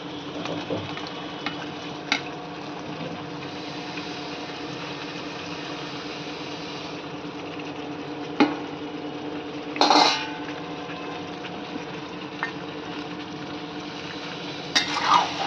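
Chicken pieces and potatoes tossed together in a frying pan over medium gas, a soft continuous sizzle with a few sharp scrapes and clinks of the utensil against the pan.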